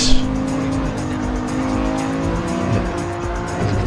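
Race cars in close competition, a Genesis running up behind another car through a double-apex corner, engines droning steadily with tire noise and a brief bump-like burst at the start.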